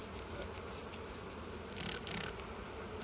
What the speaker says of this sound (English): I just shook the branch like that and knocked all the bees in the box